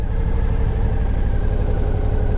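A stock-exhaust Suzuki V-Strom motorcycle sits idling close by, parked in a shady spot, its steady low rumble holding even and continuous without any revving.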